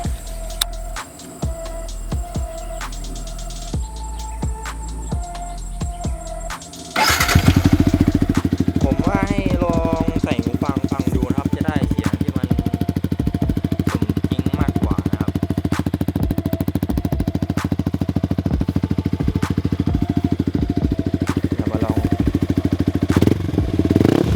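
After some clicking and rustling, a 2017 Yamaha R15 motorcycle with an aftermarket exhaust fires up close by and runs loud and rumbling, with a few rising revs over a steady throaty idle.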